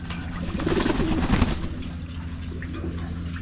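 Pigeons in a new loft coo in low, rolling throaty bursts, loudest early on and then trailing off into softer calls.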